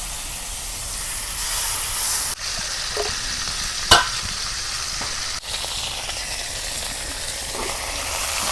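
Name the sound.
pangas fish frying in hot oil in a pan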